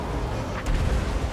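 Distant artillery booms in the Total War Warhammer game during a siege with Dwarf Warriors on the walls, heard as a low, rumbling thud with a brief sharper crack in the middle.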